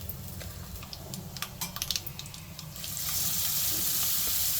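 Tamarind leaf chutney added to a hot tempering with asafoetida and turmeric, scattered crackles and pops at first, then a steady, louder sizzling hiss that swells and holds.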